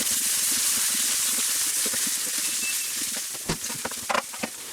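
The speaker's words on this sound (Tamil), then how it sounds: "இதில் நான் ஒரு 2 ஸ்பூன் இஞ்சி பூண்டு பேஸ்ட் போடுறேன்." Ginger garlic paste hits softened onions in a hot pan for paneer butter masala, giving a steady, close sizzling hiss with a few clicks and taps of utensils near the end.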